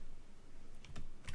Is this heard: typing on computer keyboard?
yes